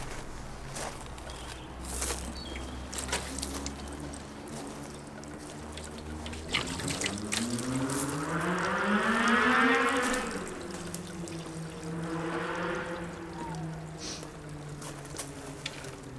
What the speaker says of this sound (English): I'll put loads of water on it